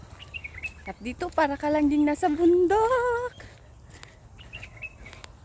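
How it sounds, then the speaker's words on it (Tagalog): Bright, whistled birdsong phrases ring out clearly in the open on a mountaintop among trees, with a person talking intermittently over and around the calls. "Yan po yung huni ng ibon."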